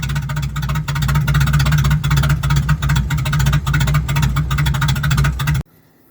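A car engine running rough at idle, with its exhaust system gapped open, drones loudly and steadily with a low uneven throb for several seconds before cutting off abruptly.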